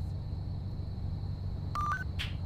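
A phone call chimes in Need for Speed Payback: a few short electronic tones sound near the end over a steady low engine-like rumble.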